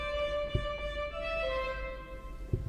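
Jacques Hotteterre fugue subject played by a single melodic voice, a short line of sustained notes in a reedy woodwind-like timbre with soft attacks and faint background noise, no speech.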